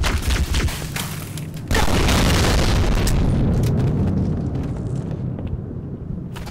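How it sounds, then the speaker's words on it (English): Grenade explosion in Halo 2, a heavy close boom that erupts and rumbles loudly before slowly fading, preceded by scattered gunfire. "Grenade!"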